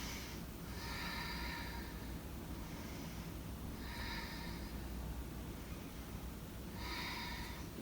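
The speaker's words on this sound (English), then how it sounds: "Take a few breaths here." Slow, audible breaths during a yoga stretch, three long exhalations evenly spaced a few seconds apart, soft and close over a quiet hiss.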